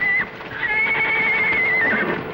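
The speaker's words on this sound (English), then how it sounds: "Sounds like the horses are loose." Horses whinny in a long, loud neigh with a wavering high pitch, hooves clopping faintly underneath, in a western setting.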